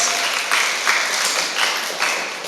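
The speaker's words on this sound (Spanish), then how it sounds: "Fuerte los aplausos para el pastor." Church audience applauds a pastor after a Christian question-and-answer trivia night, a dense, steady patter of many hands at moderate distance with small swells, lasting a few seconds.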